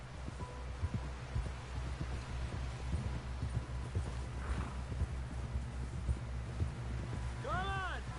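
Horse hooves in Red Dead Redemption 2 clip-clop steadily at a walking pace under a low ambient hum, with a brief tonal sound near the end.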